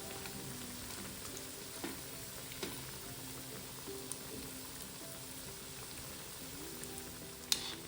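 Cabbage patties (gobhi tikiya) frying in hot oil give a steady, moderate sizzle for the whole stretch, with occasional small pops and one sharper crackle near the end, and no voices.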